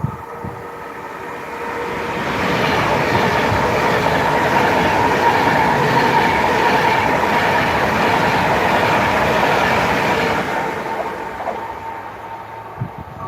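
Avanti Pendolino electric train passing at speed on the West Coast Main Line at Winsford, a steady loud rushing roar that swells in, holds for several seconds, then fades away.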